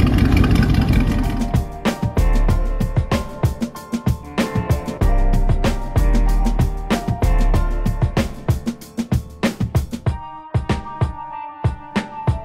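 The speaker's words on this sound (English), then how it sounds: "Still got that decent exhaust leak." Truck engine at an outdoor show for squatted and lifted trucks, revved repeatedly with an exhaust leak, giving loud rhythmic bursts and sharp popping pulses throughout.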